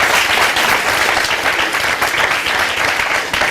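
A studio audience applauds a guest on a talk show, steady dense clapping filling the room throughout without pause.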